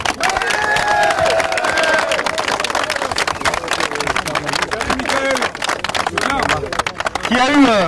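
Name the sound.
crowd applauding François Hollande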